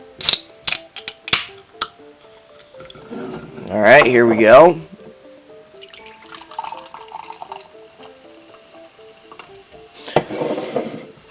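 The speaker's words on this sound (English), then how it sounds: "let's give this one a crack and a pour" A can of Mountain Dew Cabo Citrus hisses as it cracks open, then liquid pours and fizzes for a moment; a person speaks briefly, with clinks and a later bubbly splash.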